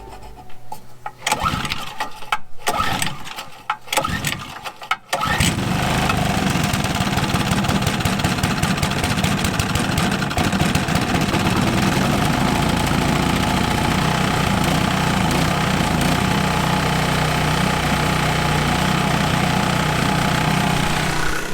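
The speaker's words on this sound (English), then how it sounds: "Those Briggs motors, holy cow, they're loud." A lawn mower with a Briggs & Stratton engine starts after a few sputtering pulls, then settles into a loud, steady, close-up running drone for spring scalping of a Bermuda lawn.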